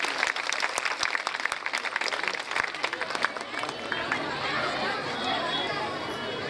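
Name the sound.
audience applause for the chief guest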